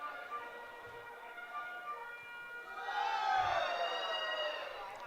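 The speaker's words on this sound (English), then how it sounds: "Majors fans trying to cheer on the hometown team here," Crowd of fans at an IBL baseball game in London cheering on the home Majors, a broad roar that swells midway and holds, with whistle-like tones and distant crowd noise throughout.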